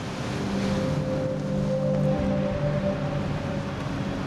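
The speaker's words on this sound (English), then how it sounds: "they look more like mountains of water" Heavy sea noise from storm waves in 75 mph winds, with a steady low rumble and wind, plus a droning engine hum of the tug Abeille Bourbon running underneath throughout.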